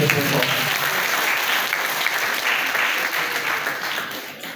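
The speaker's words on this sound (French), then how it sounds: "Il faut l'applaudir très fort." Audience applause fills the room with dense, steady clapping, loud and continuous throughout before easing slightly at the end.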